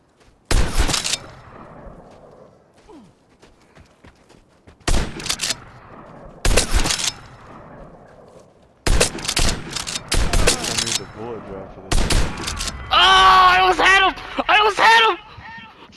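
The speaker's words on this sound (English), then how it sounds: "it's a powerful ass fucking machine gun" A video-game machine gun or assault rifle fires in several short, loud bursts separated by pauses, with a voice talking quietly between them and a crackling flurry of shots near the end.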